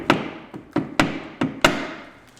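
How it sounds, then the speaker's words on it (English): A rubber mallet taps a rear brake caliper on a 2008-2021 Grand Caravan: five sharp, close knocks spaced about half a second apart, each dying away quickly. "so I'm just going to grab a rubber mallet."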